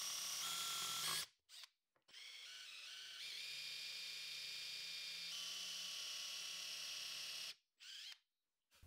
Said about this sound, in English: I drilled the holes for the threaded inserts.